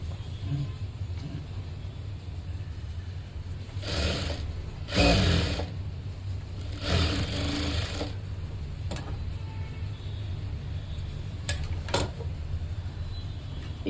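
Sewing machine stitching a silk saree blouse piece, its steady mechanical whir running throughout, with louder bursts of fast stitching and a couple of brief clicks, close and without talk.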